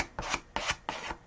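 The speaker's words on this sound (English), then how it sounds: "I loaded both sides of the card so that I can scrape paint going back and forth" A loaded painting card scrapes paint back and forth across a grooved surface in three quick rasping strokes, each a short, close, dry scrape separated by brief pauses.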